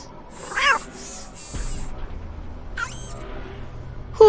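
Robotic cat Suki from a Nancy Drew video game gives a few short, bright electronic meows in brief bursts, with a faint low hum between calls.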